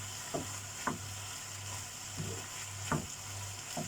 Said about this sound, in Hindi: अब इसको थोड़ा अच्छा से भूनना है कि ये मीट का कीमा का स्मेल ख़त्म हो जाए